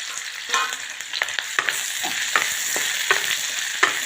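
Onion, potato and green chillies frying in oil over popped mustard seeds and cumin, a steady bright sizzle broken by frequent short scraping stirs, close and alone with no voices.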